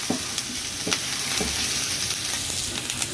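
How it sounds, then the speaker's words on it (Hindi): Onion sautés in a pan for a bread pizza roll, giving a continuous close sizzle with periodic soft scrapes of a spatula stirring, no voices over it. "हमने सिर्फ 1 मिनट बस इसको सौते करना है।"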